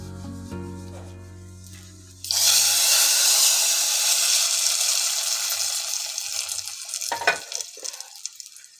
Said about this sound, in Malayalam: ഇതിലേക്ക് നല്ല വെളിച്ചെണ്ണയിൽ കടുകും മുളകും കറിവേപ്പിലയും കൂടെ നല്ലൊരു വറവിട്ടേക്കാം